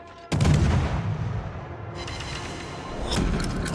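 Orkan rocket artillery firing on a target in a video game: a sudden loud launch blast, then a long roaring, rumbling tail, with a second surge of noise near the end and no talking.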